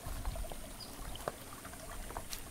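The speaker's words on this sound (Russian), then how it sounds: "Вот эта ванна, купель, это реально горячая вода." Hot spring water pours steadily into an outdoor tub, making a soft, continuous trickle with faint splashes in an open setting.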